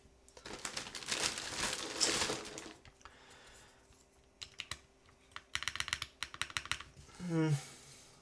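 Typing on a Lumino75 mechanical keyboard with PBT keycaps, bursts of close, crisp clacking keystrokes with pauses between them, mixed with handling rustle, and a brief voice near the end.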